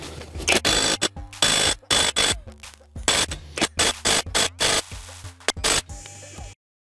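NANWEI 380 N·m cordless wrench driving and tightening a screw, a close series of short, sharp mechanical bursts and rattling impacts in quick irregular succession, ending abruptly in silence.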